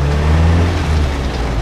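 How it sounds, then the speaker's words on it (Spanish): An older car's engine revs steadily and loudly up close, a sustained low drone holding its pitch before a gear change, with no talk over it. "con el sonido del motor"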